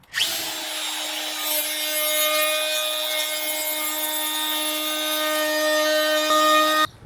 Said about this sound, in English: Now we need to knock this very sharp edge with a round over bit